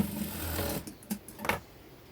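Sewing machine stitching pleated nightie fabric pieces along the bottom edge, a steady close whir for under a second followed by a few brief mechanical clicks and taps.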